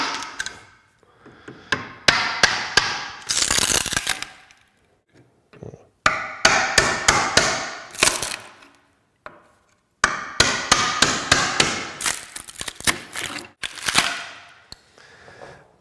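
A chisel is hammered into plywood in sharp, loud strikes that come in rapid bursts, separated by short pauses.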